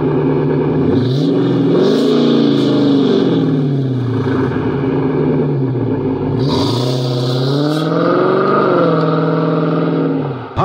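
A 2009 Dodge Challenger R/T muscle car with a 5.7-liter Hemi V8 revs repeatedly, the engine pitch rising and falling in loud, close sweeps with no talking.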